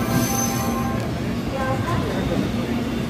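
A train pulls into platform 4 at Varanasi (Banaras) station, giving a steady rumble with high metallic wheel squeal throughout while people talk nearby.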